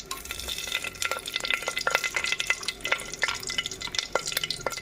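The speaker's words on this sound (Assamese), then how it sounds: "তেল এতিয়া গৰম হ'ল। এতিয়া প্ৰথম দিম আপোনাৰ তেজপাত" Bay leaves dropped into hot cooking oil for a chicken masala dish, giving a steady close crackling sizzle with scattered sharp pops and stirring clatter, no talking.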